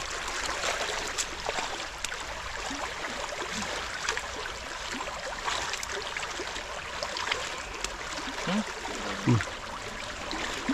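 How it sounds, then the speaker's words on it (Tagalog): Strong river current rushing steadily as broadband water noise, constant and fairly close throughout, with a few faint low knocks and no speech. "Malakas po ang lagos ng tubig."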